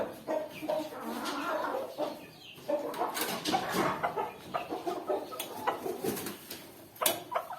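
Four hens and three roosters cluck and chatter steadily inside a new coop, a busy, close mix of calls with sharper squawks near the end.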